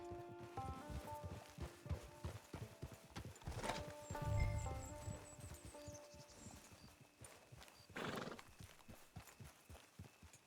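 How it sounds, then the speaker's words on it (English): Horse hooves clip-clopping at a walk in the video game Red Dead Redemption 2, a steady close rhythm joined by a couple of neighs and whinnies, with game music underneath. "Get your horse."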